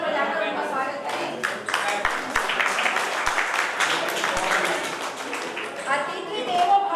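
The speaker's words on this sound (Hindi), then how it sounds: "मैं चाहती हूँ कि सभी तालियां बजाकर उनका स्वागत करें" An audience at a school retirement ceremony claps to welcome the principal, with steady scattered applause from a crowd that continues for several seconds at moderate loudness.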